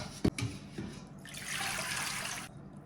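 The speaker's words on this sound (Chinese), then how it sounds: "直接倒入高压锅里面，" Washed pork suet poured into a pressure cooker: a quick wet plop and splashes, then about a second of soft, close liquid pouring and sloshing before it stops.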